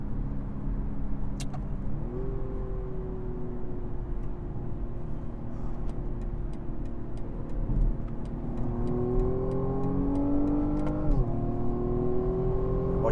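A 2019 BMW M135i xDrive accelerating on a German autobahn, its engine sound piped through the cabin speakers as a steady drone that rises in pitch through gear changes, heard from inside the car.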